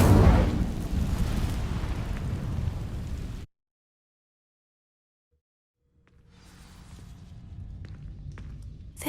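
Incendio fire spell igniting dry vines in Hogwarts Legacy, a loud roaring whoosh of flame that fades into silence, then a quieter crackling burn and rumble building back up.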